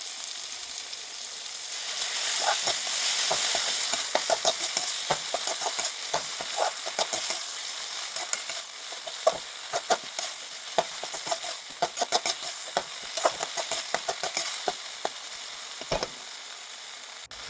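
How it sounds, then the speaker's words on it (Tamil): Cut tomatoes sautéing in a pan for a brinjal gravy, a steady close sizzle with frequent spoon scrapes and clacks throughout, no talking. "2 தக்காளி கட் பண்ணி வச்சுருக்கேன். அதை நல்லா போட்டு அதையும் வதக்கிடலாம்."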